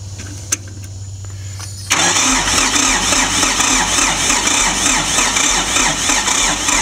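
Ford 1710 tractor engine starting: a brief crank with a quiet low hum, then at about two seconds the diesel catches and runs on as a loud, steady, rumbling idle close by, with no talk.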